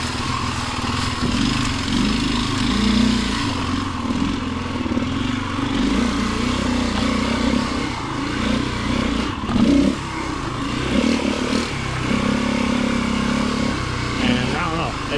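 A motorcycle engine runs steadily and close, with rough throbbing idle and occasional revs swelling and falling over about fifteen seconds, someone talking faintly beneath it.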